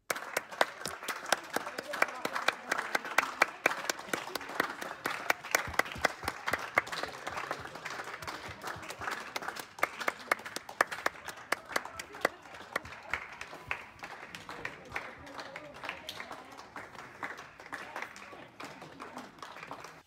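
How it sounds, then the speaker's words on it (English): Crowd of neighbours along a residential street applauding the NHS, a sustained wash of many hands clapping at a distance, with sharper nearby claps and occasional cheers running steadily for the whole stretch. "Everybody in the street was applauding the NHS"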